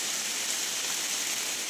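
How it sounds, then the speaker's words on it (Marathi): Steady rain falls outdoors during a bamboo shoot harvest, a dense, even hiss of moderate loudness with no voices and no breaks. "तर पाऊस चालू झाला आहे बराचसा"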